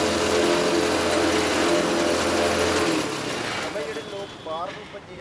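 A machine grinds and processes ingredients for sardai, a homemade cooling drink, running as a loud, steady mechanical churn for about three seconds before easing into a quieter, uneven whir with a voice heard underneath.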